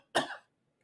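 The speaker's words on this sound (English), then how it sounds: "The cough is always the last to go." One short, sharp cough close by, followed by silence.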